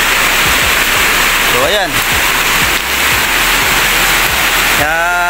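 Heavy rain falls steadily on a garden while rainwater runs into an open canal, a dense loud wash of noise throughout, with someone talking over it.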